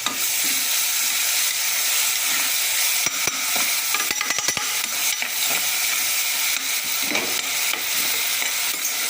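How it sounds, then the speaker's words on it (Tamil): Green chillies with a pinch of salt sauté in a pan, giving a steady loud sizzle with frequent scraping and stirring clatters throughout, no voices. "பச்சை மிளகாய் கொஞ்சம் உப்பு சீக்கிரம் வதங்கும் நான் வதங்குது"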